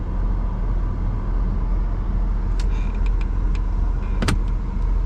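A repaired car idling with the air conditioning on before a test drive, a steady low engine hum throughout, with a few faint clicks and one sharper knock near the end.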